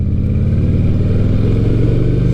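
Harley-Davidson Softail motorcycle loping along under way, a loud, close, continuous throbbing V-twin rumble with a steady pulsing beat and no voices.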